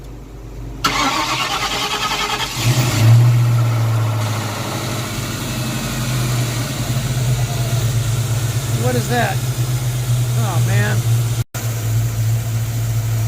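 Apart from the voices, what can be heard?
1994 convertible car engine idling after start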